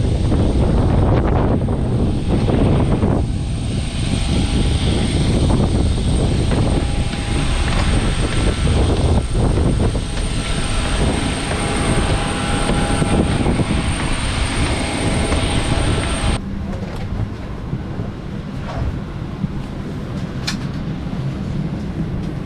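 Inside a nearly empty airliner cabin at North Cyprus's small international airport, a steady broadband engine roar drones on, then drops abruptly to a softer hum near the end.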